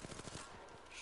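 Rapid automatic gunfire from a video game, a close, loud string of quick bursts that fades into a dense, noisy wash after about half a second.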